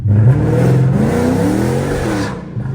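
A Chrysler 300 with a 5.7 Hemi V8 on a stage 2 flame and burble tune revs loudly and up close, its deep engine tone climbing and falling under acceleration and gear changes.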